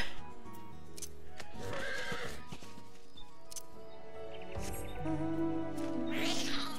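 A unicorn mount in Final Fantasy 14 neighs and whinnies clearly several times amid light game music, with a few hoof clip-clops mixed in.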